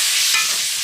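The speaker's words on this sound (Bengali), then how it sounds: "আমি এখন মাংসতে সামান্য পরিমাণে গরম জল দিয়ে দেবো মাখানো কষানোর জন্য" Hot water is poured onto sautéed chicken in a pan, giving a brief, loud burst of hissing sizzle that lasts under a second.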